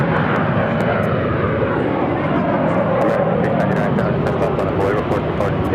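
A Frontier Airbus A321 airliner takes off from Phoenix Sky Harbor, a loud, continuous broadband jet roar filling the whole stretch with steady intensity, close and overwhelming.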